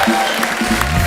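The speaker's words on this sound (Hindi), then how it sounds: "जोरदार तालियां हार्डी के लिए" A studio audience claps and cheers loudly on a comedy talk show as rockstar Hardy Sandhu is welcomed onto the stage, a short, dense burst of applause.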